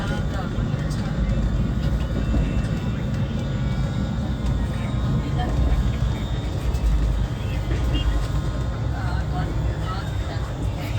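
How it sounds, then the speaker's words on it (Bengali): The Sealdah–New Delhi Rajdhani Express runs on after leaving Dakshineswar, a steady, dense rumble heard throughout the clip, with voices talking over it. "ট্রেন এখন চলছে"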